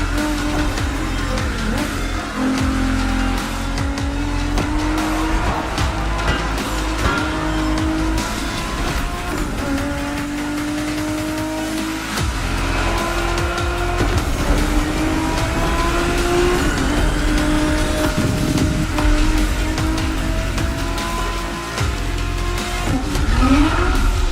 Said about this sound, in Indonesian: Street racing my way through mountains and motorways was amazing.